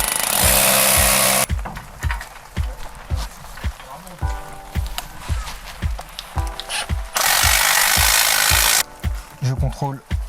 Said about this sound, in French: je prends mon outillage et je perce.